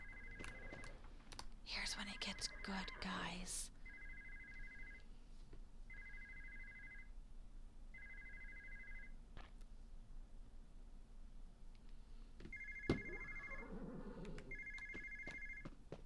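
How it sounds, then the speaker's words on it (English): A repeating electronic telephone ring in the video game Petz Horsez 2, in short, evenly spaced bursts, with a brief noisy clatter early on and a voice speaking over it. "Oh no, the telephone's ringing."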